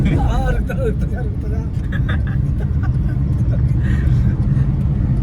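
Road traffic rumbles along a Delhi street near India Gate at night, a steady low engine drone with no clear single pass-by. People talk over it throughout.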